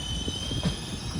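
Bengaluru to Goa train running with steady rolling rumble and a brief squeal of wheels on rails, no talk.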